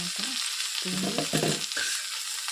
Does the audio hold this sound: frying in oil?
yes